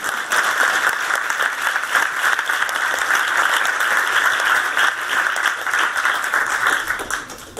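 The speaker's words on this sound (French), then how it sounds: "Vous pouvez applaudir." Dense, loud applause from a stand-up comedy audience fills the room for several seconds, steady and sustained throughout.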